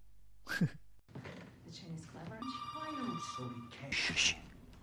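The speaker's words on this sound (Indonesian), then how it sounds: "Tak lama telepon pun tiba-tiba saja berdering" A telephone rings with a steady electronic tone for a couple of seconds, amid background talk, clatter, and a sharp gasp-like sound.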